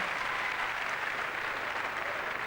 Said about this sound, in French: que je vous demande évidemment d'applaudir très fort